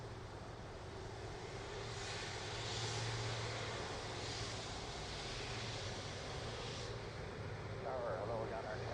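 A jet airliner rumbles at Toronto Pearson Airport, a broad continuous engine roar that swells gently and holds steady at a distance throughout, with no break or pause.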